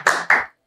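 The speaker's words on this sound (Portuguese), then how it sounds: "Palmas." Two quick, loud hand claps sound close together, each sharp and briefly ringing, to welcome a guest in a studio.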